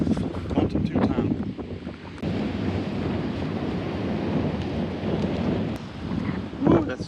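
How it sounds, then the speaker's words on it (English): Strong wind blusters outdoors at a kite flying spot, a loud continuous rush buffeting the microphone for the whole stretch, with faint voices and a few brief knocks mixed in. "that strong wind is gonna be crazy, I bet"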